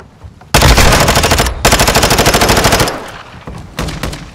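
Loud rapid bursts of automatic machine gun fire in a modern military shooter game, two long sustained rattling strings followed by quieter shorter bursts, close and dominant, with no talking.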